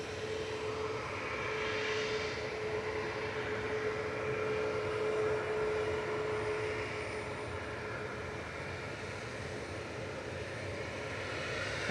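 A Jet2 airliner departing Manchester Airport for Rome produces a sustained jet engine roar with a steady whine, swelling slightly then easing, heard alone without talk.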